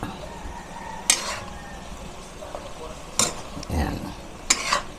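Pork with fresh shrimp paste (bagoong alamang) sautéing in a pan, with a few sharp utensil scrapes and clanks against the pan over a low, steady sizzle.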